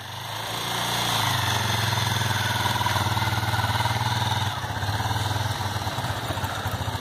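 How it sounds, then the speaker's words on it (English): Project vehicle with a reverse gear mechanism driving forward, its small engine chugging in a steady, loud, close rumble that eases slightly partway through, with no talk over it. "So now the vehicle moves in front direction."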